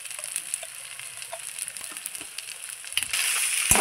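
Fish-head muri ghonto with ghee and sugar being stirred in a pan, a soft steady sizzle with faint scraping taps, rising louder near the end, no voices.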